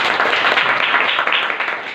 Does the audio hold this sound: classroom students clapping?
yes